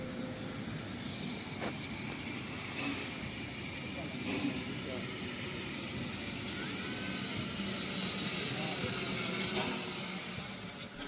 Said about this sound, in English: it's a beautiful historic steam train here in Darmstadt that runs on active meter gauge tram tracks